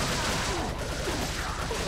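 A TMP submachine gun firing in Resident Evil 4, a steady dense rattle of rapid automatic shots, loud and close throughout, with no talk.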